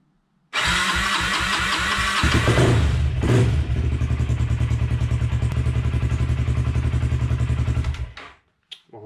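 A quad's engine cranks briefly after its battery is replaced, then catches on the first try and settles into a loud, steady idle close by before cutting off.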